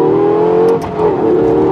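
A 2012 Lexus LFA engine revs sharply on a downshift, a loud, close, high-pitched wail that dips briefly and then climbs again with a strong tonal whine.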